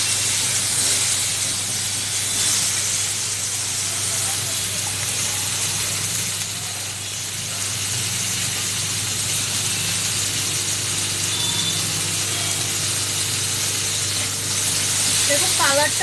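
Olives with turmeric sizzling in a frying pan, a steady broadband hiss of hot oil running loud and continuous throughout, with a brief clink near the end.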